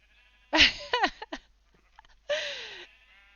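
Sheep at a regional sheep show let out two close, loud bleats, the first wavering and broken into several pulses, the second a single drawn-out call, with quiet between them and no speech.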